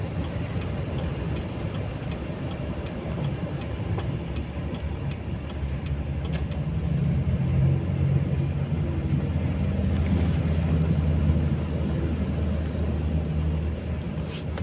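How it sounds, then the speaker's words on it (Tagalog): Cars crowd a flooded Dubai road in heavy traffic, giving off a steady, low engine rumble that swells slightly midway, heard alone without any talking. "Mga sasakyan kumpul-kumpul na."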